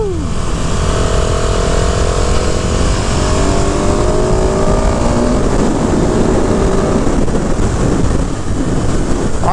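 A 2020 KTM 690 SMC R motorcycle engine runs continuously at speed, a loud steady drone with rising and falling tones as it revs through gears, heavily mixed with wind rush against the microphone and no talk.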